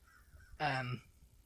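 A single short, harsh bird call rings out briefly and fairly close, a gull-like squawk lasting under half a second against quiet background.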